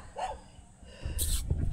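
Dogs give a few short barks and yips, one high bark early and a louder cluster toward the end, close by against a quiet outdoor background.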